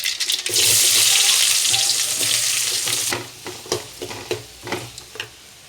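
Two large chopped onions hit hot oil with popped mustard seeds in a loud, close burst of hissing sizzle, which eases into softer frying under several spoon scrapes and knocks.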